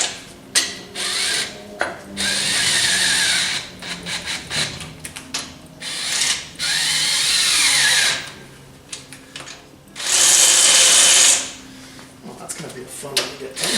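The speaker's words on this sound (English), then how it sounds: "I'll just lightly put it down with my cordless here." A cordless power tool drives fasteners on a Ford 4R70 automatic transmission, with several short whirring bursts of differing length separated by pauses; a louder, higher-pitched run stands out near the end, and a person speaks in between.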